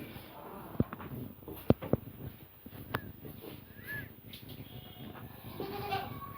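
Young Bandur sheep lambs bleat in short, separate calls, some close and some quieter, with a few thuds and shuffling steps in a quiet outdoor pen.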